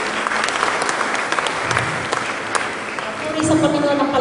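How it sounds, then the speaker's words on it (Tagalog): Sustained applause from a church congregation during an evangelistic praise and worship fiesta, steady and fairly loud, with voices faintly audible beneath the clapping. "Sa Panginoon ang palakpak na yan"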